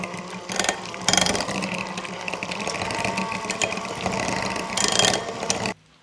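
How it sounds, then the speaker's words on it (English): A handheld electric mixer beats cream cheese and egg for a keto dessert, whirring with a steady mechanical buzz that swells in short bursts, then cuts off abruptly near the end. "I like to just give the cream cheese and egg a little good mix with my hand mixer"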